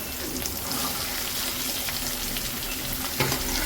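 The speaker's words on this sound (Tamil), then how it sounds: "நல்லா வெங்காயம் வந்து வதங்கட்டும்" Onions sautéing in oil in a pan at home, a steady dense crackling sizzle at moderate level with occasional utensil taps, no voices over it.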